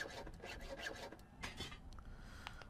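A saw gliding through material in the adventure game Grim Tales, giving a steady, rough rasping stroke with rhythmic pulses, moderately loud and alone without talk.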